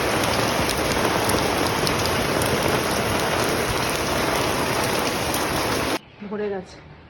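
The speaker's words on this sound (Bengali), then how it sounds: "বৃষ্টি পড়ছে" Steady rain falls in a dense, even hiss for about six seconds, then stops abruptly and a short spoken phrase follows.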